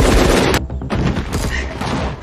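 Dense gunfire exchange from the 2024 action film Armor, with rapid bursts of shots and heavy booms in close succession, a brief lull, then more crackling shots mixed with loud impacts.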